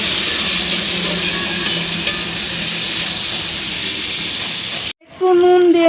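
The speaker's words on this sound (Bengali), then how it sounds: "এবার টমেটোটাকে ভালো করে ভেজে নেব।" Tomatoes frying in a pan with a steady, loud hiss and sizzle for about five seconds, then cutting off abruptly into a brief stir with clattering pan sounds.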